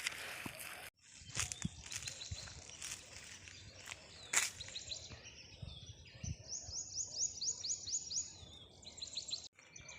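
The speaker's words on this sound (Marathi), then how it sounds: "पक्ष्यांचा वगैरे किलबिलाट पण मस्तपैकी आवाज ऐकू आपल्याला येतो." Birds chirp and twitter in a quiet village farm field, with short bright calls scattered through the clip and a run of rapid trills near the end, over faint outdoor ambience.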